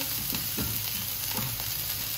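A pan of brown sugar caramelizing while ingredients are sautéed for a keto bunless burger, giving a close, steady sizzle and frying hiss with a few soft stirring scrapes.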